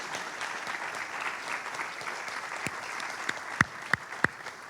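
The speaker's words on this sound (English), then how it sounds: "Can we have a big round of applause for Sylvia and Ed for organizing this?" A conference audience applauds steadily at the opening of SGP 2024, a dense, even wash of many hands clapping, with a few sharper, louder claps standing out near the end.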